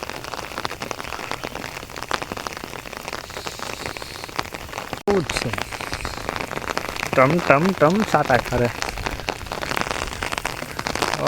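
Steady patter of rain falling on surfaces throughout, with people talking over it in the second half.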